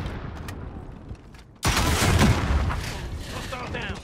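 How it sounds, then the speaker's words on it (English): A rocket fired in Call of Duty: Modern Warfare cuts in with a sudden loud blast, and a long rumbling, crackling tail follows. Faint gunfire and soldier chatter sit in the background. "Rocket away!"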